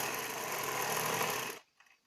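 A sewing machine stitching the neck of a lehenga runs in a steady, close whir for about a second and a half, then stops abruptly into near silence.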